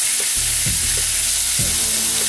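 Chopped flank steak and garlic fry in olive oil over medium heat with a steady, loud sizzle, punctuated by a couple of stirring scrapes in the pan.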